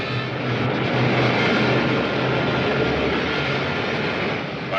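Steady roaring rush of a rocket ship's pilot jet firing, a continuous broadband engine blast at constant loudness with no voices.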